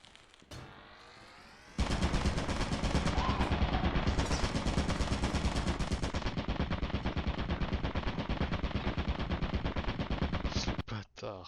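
Gun turret in a first-person video game firing a long, loud, rapid automatic burst that runs for about nine seconds before cutting off, with a brief crack at the end.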